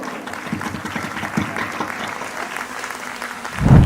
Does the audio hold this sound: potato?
no